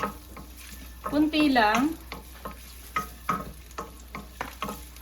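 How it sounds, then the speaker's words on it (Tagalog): Garlic and ginger sauté in a little cooking oil in a pan, a soft sizzle and stirring under intermittent talk. "Magigisa na tayo ng unahin natin ng garlic, ginger."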